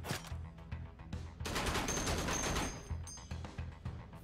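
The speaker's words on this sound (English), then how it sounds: "Why are you shooting the fish tank?" Gunfire from the video game Frontier TRS, aimed at a fish tank: loud, dense bursts of shots, rising into a sustained rapid volley in the middle before thinning to scattered shots.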